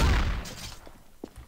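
Gunfire in the video game Trouble in Terrorist Town: a loud burst of shots opens the moment and then trails off into a few fainter, scattered reports, with no talk over it.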